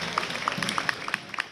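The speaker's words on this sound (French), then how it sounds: "autour des milliers de curieux venus applaudir nos vétérans" Crowds of onlookers clapping for veterans at a commemorative parade in Westminster, London, scattered hand claps standing out over a steady murmur of street noise, moderately distant.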